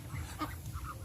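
Backyard ducks kept at a rural home in San Carlos City, Pangasinan, in the Philippines give a few short, raspy quacks over low outdoor background noise, fairly quiet and brief.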